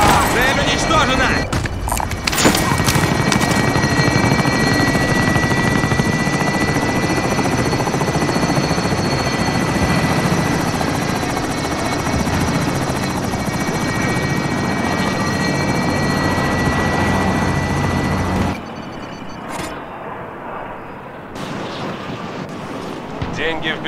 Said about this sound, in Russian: Вертолет возвращается.